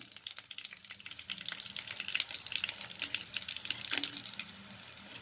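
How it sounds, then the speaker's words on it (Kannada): Coriander seeds and whole spices frying in hot oil for a jackfruit bhaji, a quiet steady crackling sizzle with scattered pops and stirring throughout. "ಈಗ ಆಯಿಲ್ ಒಂದು ಸ್ವಲ್ಪ ಹಾಕ್ಕೊಂಡಿದ್ದೀನಿ, ಧನಿಯಾ ಆ್ಯಡ್ ಮಾಡ್ತಾಯಿದ್ದೀನಿ"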